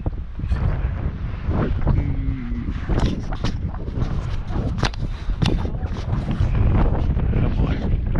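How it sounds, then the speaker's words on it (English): Steady, heavy wind buffeting the microphone throughout, a loud continuous roar with gusty rumbling and scattered knocks. "I guess it's too windy."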